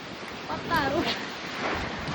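Strong thunderstorm wind in Kurseong blows as a broad, steady rushing roar with gusty swells, close and constant, shaking the trees, while a voice speaks briefly over it.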